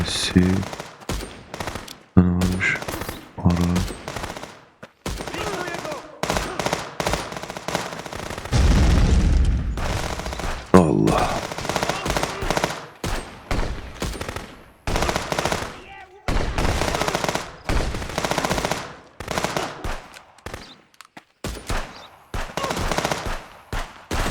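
Rapid bursts of machine-gun and rifle fire in the Contraband Police video game, loud and close, with dense volleys and single shots repeating throughout and a few heavier booms, plus occasional voices between shots.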